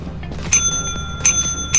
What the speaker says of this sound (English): If I ring the bell once, we can't drop anything else.